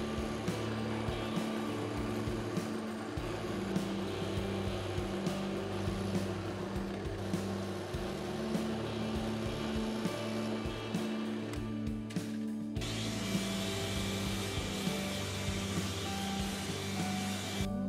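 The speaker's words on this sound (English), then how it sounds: "Let's drill some holes." A drill press bores string ferrule holes through a guitar body, a steady droning motor hum with fluctuating grinding as the bit cuts, continuing with a brief change in tone partway through.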